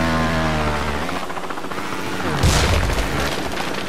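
Gunfire and explosions from the video game Blood Dragon during a prisoner rescue mission, with a heavy boom around the middle rising over a steady loud rumble of continuous shooting and a low musical drone.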